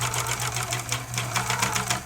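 A serger stitches doll clothes, a raglan shirt, in a steady fast whirring run with rapid needle pulses, close and continuous throughout.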